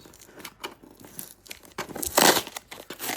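Tape being peeled off a graded Pokemon card slab, a close crinkling, tearing rasp that builds in short bursts and peaks near the end, with no talk over it.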